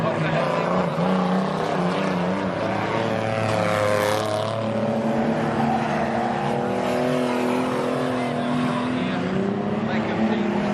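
Race cars circle a speedway oval. Loud, continuous engine roar with rising and falling pitch as the cars pass, steady for the whole stretch.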